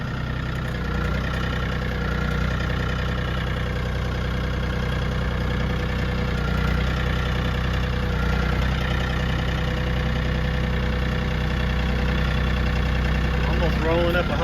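Tractor engine running steadily while rolling up a pile of hay for compost, a constant low diesel drone with a steady hum, fairly close, unbroken for the full length.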